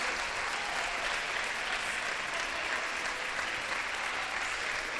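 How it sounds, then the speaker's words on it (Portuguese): Church congregation clapping in praise during a service, dense continuous applause filling the whole stretch at an even, fairly loud level with no voices over it. "Vamos aplaudir ao Senhor."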